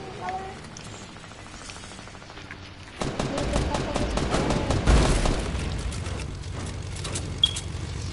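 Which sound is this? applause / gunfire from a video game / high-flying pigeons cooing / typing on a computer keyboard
gunfire from a video game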